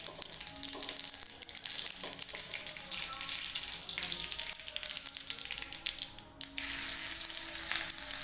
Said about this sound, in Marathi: मोहरी छान पद्धतीने तडतड तडतड झालेली आहे